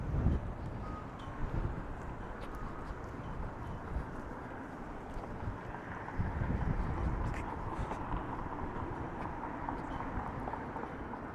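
Wind buffets and roars over the microphone outdoors on a street in Toronto's financial district, a constant low rumble with gusty surges, faint distant traffic underneath, no one speaking.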